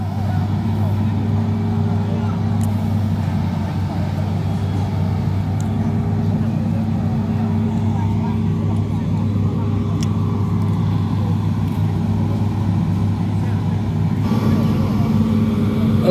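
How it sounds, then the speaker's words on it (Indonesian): Heavy diesel engine of an excavator shifting position during a long truck trailer evacuation, a constant deep rumbling drone that holds steady and close for the whole stretch, with someone talking over it. "Ekskavator yang bergeser ya."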